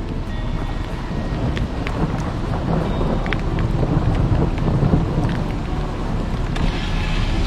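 A thunderstorm rolls over open water near the Mackinac Bridge, with loud continuous rain and wind buffeting the microphone and low rumbles of thunder throughout.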